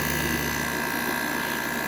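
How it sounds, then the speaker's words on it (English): A GE 6500 BTU window air conditioner running, its compressor giving a steady, even hum with a faint whine and fan rush, close and constant with no talking. "Compressor doesn't sound too bad."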